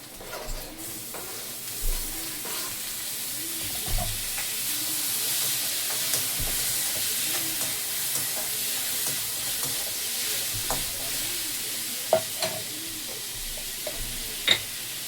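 Tomatoes going into a pan of browned onions, frying with a continuous hiss and sizzle, with occasional soft spatula scrapes and a couple of sharper clinks near the end, close and steady with no talking.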